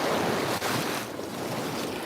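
Ocean surf washes in a broad, steady hiss on a Florida beach, with gusty wind noise over the microphone, no voices.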